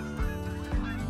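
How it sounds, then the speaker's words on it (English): Geese honk in the hunting game theHunter: Call of the Wild, two loud nasal honks over a steady low background hum. "let a few more of these birds come in"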